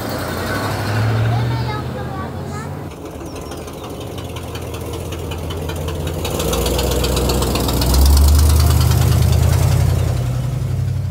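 An old car's engine in Mérida, Venezuela runs with a rough, knocking mid-range drone that swells louder toward the end, its creaks and rattles heard under someone talking.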